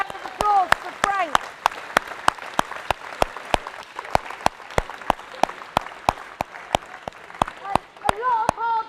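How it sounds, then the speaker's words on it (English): A crowd at a pickleball nationals tournament applauds, the claps landing as sharp, evenly spaced strokes in a steady beat throughout, with a voice talking over the start and the end. "round of applause for Frank."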